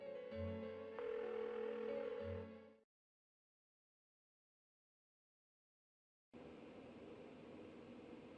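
An unanswered phone call rings in the video game Persona 4, a steady electronic tone broken into two long bursts with a silent gap between them.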